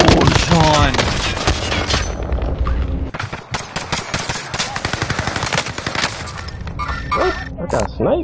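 Rapid gunfire crackles loudly in a Call of Duty Warzone match on Rebirth Island. Dense automatic bursts and sharp shots keep on without a break, with excited voices shouting over the din.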